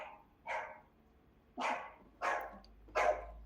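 A dog barks four times in separate short bursts, fairly close and loud against a quiet room, with a brief faint yelp at the start.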